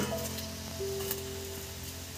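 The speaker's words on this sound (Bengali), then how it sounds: "মাটির উনে কাঠের জালে দমদার ফুটবে এবার এটা।" Mutton curry bubbling in a pot over a wood-fired clay stove, giving a steady, soft hiss with a low background hum.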